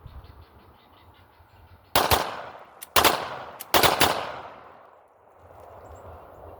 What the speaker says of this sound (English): I gotta put some rounds through it just to try to get used to the trigger. So let's continue. This is 7 rounds of 40 cal.